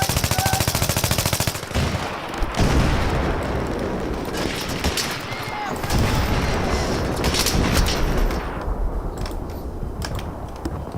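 Rapid gunfire and a grenade blast in the video game Take Us North: dense, loud automatic bursts crackling almost nonstop, with heavy booming hits mixed in.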